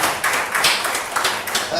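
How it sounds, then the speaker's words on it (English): Audience applause at a live spoken-word event, a brief burst of scattered clapping close by, with voices talking over it. "Please, a round of applause."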